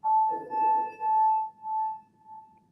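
A smooth-edged bell rubbed around its rim like a singing bowl gives a steady, pure ringing tone, like a wet-finger wine glass, swelling in three close pulses and then fading into a softer, quieter hum.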